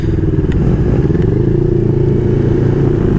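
An NK400 motorcycle engine runs close and loud in a steady, even drone with a faint rattle on top, and no one talks.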